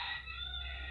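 A hen and a rooster sound together in a short, loud burst: sustained crowing-like calls with clucking, close and clear, with no speech.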